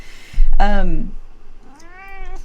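A cat gives a loud, drawn-out meow close by, followed moments later by a second, softer rising meow, with quiet room noise between the calls.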